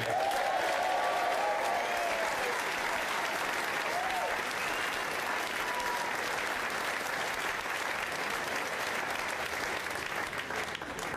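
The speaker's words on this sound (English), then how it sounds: "A round of applause that was even bigger than Andy Ritchie's." A dinner audience at a 2009 Manchester United event gives Sir Alex Ferguson a loud, sustained round of applause, a dense, even roar of clapping with a few voices calling out early on.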